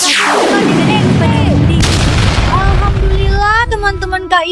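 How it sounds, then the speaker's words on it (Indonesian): A laser blast in Sakura School Simulator fires with a sharp, sweeping tone that drops steeply in pitch, trailing into a rumbling burst, followed by a voice talking near the end. "Rasakan tembakan laser ini."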